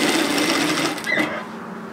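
Sewing machine stitching the pocket seam of a robe, a steady close mechanical whir that runs for under two seconds and eases off at the end.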